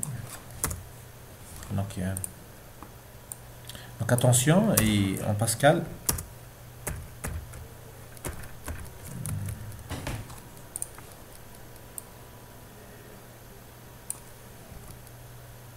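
Keys clatter on a computer keyboard as a Pascal program is typed into Borland Pascal, in irregular bursts with a dense flurry of fast typing partway through, close and clear, while someone speaks intermittently over it.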